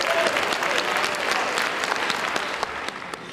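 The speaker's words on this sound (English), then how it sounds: "One more round of applause." An audience at a ceremony breaks into loud, dense applause from many hands, close and sustained, with sharper individual claps popping out as the applause starts to thin near the end.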